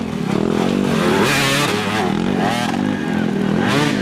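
Racing motorcycles circle a raceway, engines whining and revving in overlapping waves, loud and continuous, with a voice talking faintly underneath.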